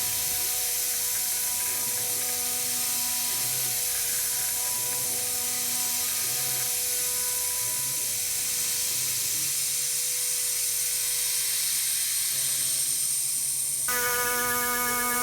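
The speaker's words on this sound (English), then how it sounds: "Then it's over to a 6mm 2-flute end mill just to machine out the bores." A CNC mill cutting bores with a 6mm two-flute end mill, on a build for a plasma CNC machine; a loud, steady machining whine with a rhythmic pulsing churn beneath, running continuously throughout, with no talk.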